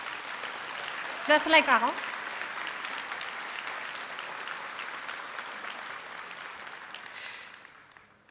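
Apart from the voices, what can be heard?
congress audience applauding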